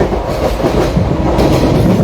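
A train rumbles along the rails near Durgapur and Bankura in stormy weather, heard from inside the carriage, with a loud, continuous low roar and wheel clatter and no talking.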